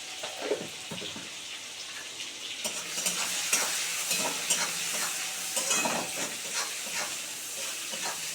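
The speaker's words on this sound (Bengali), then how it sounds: "এটা তিরিশ সেকেন্ডের মতন ভাজা হবে বন্ধুরা বেশি ভাজা হবে না" Prawns fry in a pan with turmeric, salt and a little water, making a close, busy sizzle and hiss broken by soft stirring scrapes, with no voices.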